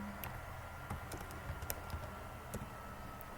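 A subdomain being typed on a computer keyboard, with quiet, uneven key clicks in a short burst, faint and close over a low room hum.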